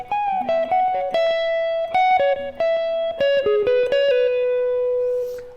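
Electric guitar plays two measures of a solo, a run of quick picked notes, bends and pull-offs up the neck ending on a sustained note, close and without talking.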